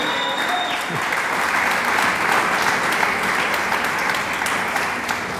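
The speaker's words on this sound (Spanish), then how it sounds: "Dele palmas al Señor." A church congregation clapping for the Lord, a steady, dense round of applause that fills the room evenly throughout, without pause or swell.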